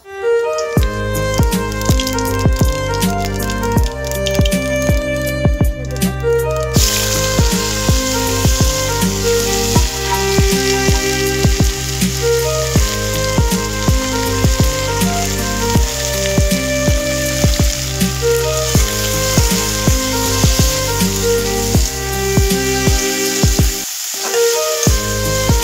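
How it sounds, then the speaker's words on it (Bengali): Vegetables frying in oil in a pan for vegetable chops, a loud, dense, continuous sizzle with rapid crackling like rain, punctuated by clicks of stirring, close up throughout. "লাল লাল করে ভেজে নেব।"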